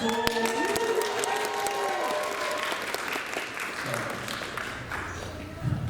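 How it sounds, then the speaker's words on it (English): An audience at an Asian dance showcase at a convention claps and cheers after a dance performance, the dense applause swelling loud and then thinning out over several seconds, with a lingering musical tone fading at the start. "Another round of applause."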